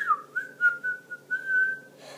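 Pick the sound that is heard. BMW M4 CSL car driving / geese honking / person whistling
person whistling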